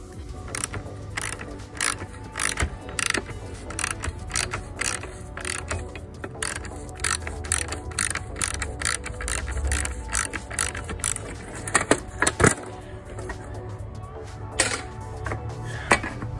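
Repeated metallic clicks, ratcheting and clanks from mole grips and a socket being worked on a car bracket in a garage, irregular and close, with occasional louder knocks.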